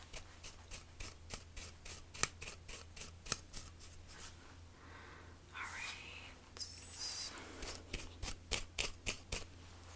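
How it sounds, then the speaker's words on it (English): Scissors trim hair in a salon haircut with close, crisp snips that come in quick rhythmic bursts. Soft rustling and a quieter stretch of rubbing fill the middle. "Just gonna trim a little bit more on these areas."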